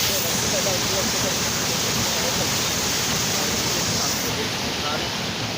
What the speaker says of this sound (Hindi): चरखा जो चलता है पानी के प्रेशर से